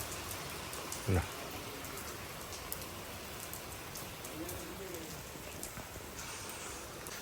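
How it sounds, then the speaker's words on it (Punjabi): Steady outdoor rain hisses continuously near paddy fields, with a brief sharp knock early on and faint bird coos in the background. "ਬਾਈ ਸੋਹਣਾ ਹੋ ਗਿਆ ਮੀਂਹ ਫੇਰ ਵੀ ਹੋ ਗਏ 10 ਮਿੰਟ ਪੈਂਦੇ ਨੂੰ"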